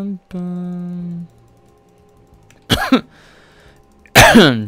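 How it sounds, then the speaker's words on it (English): Two harsh, loud coughs burst out a second apart, each a rough explosive hack, after a brief hum and quiet pause. "I apologize for my loud coughing"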